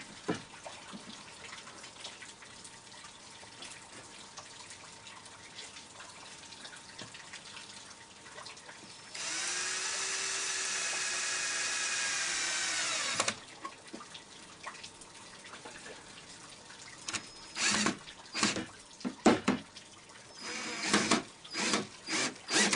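Screws being driven into the wooden end board of a handmade top bar hive: one steady, close whirring burst of a few seconds, followed by scattered sharp knocks and clicks.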